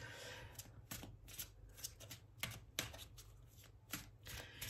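A deck of tarot cards is cut and shuffled close by, giving a quiet run of rapid riffling flutters and soft taps in an uneven rhythm.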